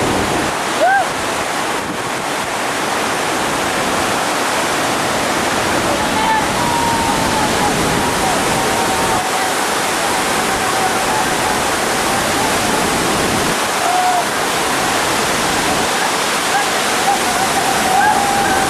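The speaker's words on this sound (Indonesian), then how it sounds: "Lihat air terjun yang disebut Adit." The Adit waterfall pours in a loud, constant roar of rushing water close by, with faint wind noise and occasional brief sounds over the steady wash.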